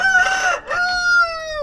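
A rooster on a homestead crows one long, loud, drawn-out call close by, the layer hens kept there clucking faintly beneath it.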